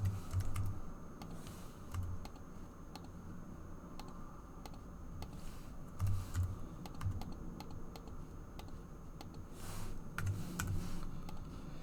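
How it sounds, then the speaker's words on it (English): Calculator keys being tapped while entering values for a maths problem, light scattered clicks in small bursts, quiet and close with no voice. "let's type this in"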